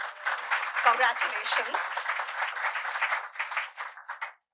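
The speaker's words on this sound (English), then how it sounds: "A round of applause for all our Superintendent of the Year finalists." Audience applause for Superintendent of the Year finalists at a national awards event, sustained clapping throughout with a voice speaking over it.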